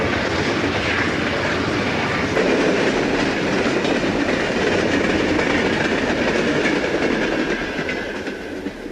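An Erie Lackawanna train pulls into the yard, a loud steady rumble of rolling cars with faint clickety-clack over the rails, continuous and close before easing slightly at the end.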